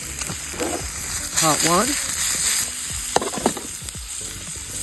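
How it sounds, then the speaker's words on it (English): Onions and sausages fry in oil over an open campfire at a campsite, a steady sizzle with stirring and scraping, while a voice speaks briefly over it. "cook the onions and the sausages. A little oil"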